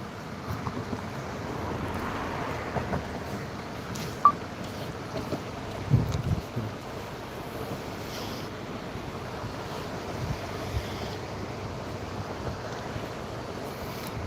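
Fast-flowing water of the Sutlej river rushes in a steady, broadband roar that runs for the whole stretch, with a few brief bumps and no voices.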